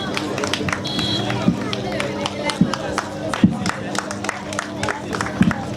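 Audience at a community event in Anissue clapping steadily, an even patter of many hands with occasional sharper claps, while someone speaks over the applause through the whole stretch.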